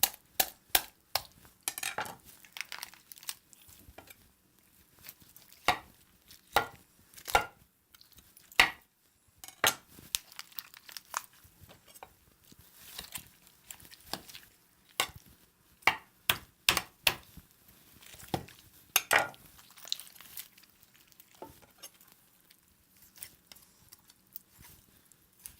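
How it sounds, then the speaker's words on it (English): A knife carves the breast meat away from a roast holiday turkey carcass with stuffing, giving sharp irregular clicks and scrapes of blade on bone and board, scattered through the cut with quiet gaps between strokes. "Now, we're gonna cut the breast of the carcass"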